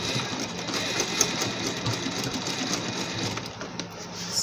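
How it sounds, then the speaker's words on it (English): A sewing machine stitches bias binding along a neckline, running in one steady, close, rapid whir without a break. "Did you see how I'm stitching it? I'm not stitching at the middle, I'm stitching at the end"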